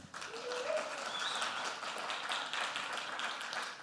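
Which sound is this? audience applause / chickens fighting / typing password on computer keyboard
audience applause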